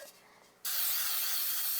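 A can of cooking spray lets out a short hiss, then a steady, loud spray that runs without a break.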